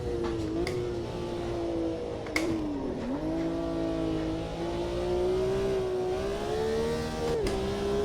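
Renault Megane Trophy race car in the Automobilista 2 sim, its engine droning steadily at sustained revs with a few brief pitch dips on shifts and throttle lifts, loud and continuous throughout with no talk.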